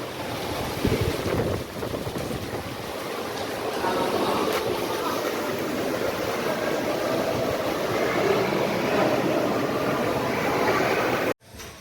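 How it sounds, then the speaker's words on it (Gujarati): A dense, steady roar of heavy rain mixed with wind noise during a motorbike ride, loud and continuous, cutting off abruptly at the end. "ફૂલ વરસાદ પડે ભાઈ."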